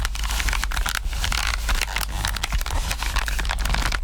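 An airsoft pistol squeezed hard gives dense crackling squeaks and clicks, a continuous noisy texture of small plastic stresses, close and loud, with no voices.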